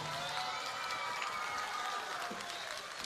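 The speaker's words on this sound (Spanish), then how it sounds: "Un aplauso más fuerte para los chicos de D6, por favor" Steady applause from a telethon audience, continuous clapping with some crowd noise filling the whole stretch at a fairly distant, even level.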